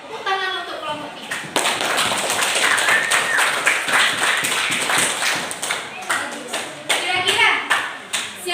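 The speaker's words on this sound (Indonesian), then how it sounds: "Tepuk tangan untuk kelompok 3." A classroom of students applauds a group presentation with dense, lively clapping close by that swells after a brief opening and carries on for several seconds, with a teacher's voice and children's chatter over it.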